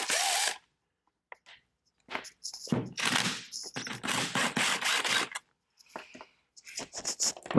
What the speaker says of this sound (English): Next, we're going to be taking out the 8 mil bolts that are around. Let's get one here.